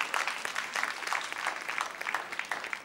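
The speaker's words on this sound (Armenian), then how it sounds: "ծափարում ենք Սաթենիկին" A televised dance-competition audience applauds a dancer named Satenik, a fairly light, steady patter of many hands heard at moderate distance.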